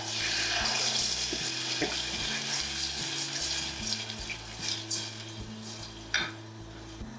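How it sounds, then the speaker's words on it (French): Passata stirred in a saucepan over garlic, a soft broadband sizzle with scraping and stirring knocks and a low steady hum underneath, close and fairly quiet. "Ensuite, je vais y mettre de la passata."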